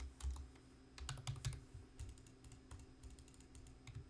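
Someone types on a computer keyboard set to an Icelandic layout, with quick irregular bursts of clicking keystrokes and short pauses, close and fairly quiet, with no talking.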